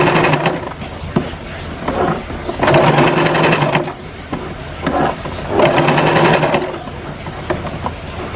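A sewing machine stitches the reinforcing lining of a partial roll collar in short whirring bursts of rapid needle rhythm. The bursts are separated by brief pauses and are close and fairly loud.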